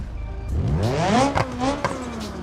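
Simulated inline-four engine from the Automation car-building game revving up and falling back, a smooth synthetic engine tone rising and dipping in pitch over a couple of seconds, loud and close with no talk.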